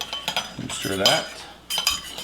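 Two eggs being stirred and scrambled in a bowl, quick scraping clinks of utensil against the bowl in short bursts, with a brief pause between them.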